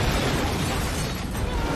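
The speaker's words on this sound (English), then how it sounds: "Within seconds, a massive explosion erupts, killing Santos instantly and destroying their boat." Propane cylinder explosion destroying a tugboat in a horror film: a loud, sustained roaring blast with dense rumbling and crackling debris that holds at full volume for the whole stretch, then cuts off abruptly.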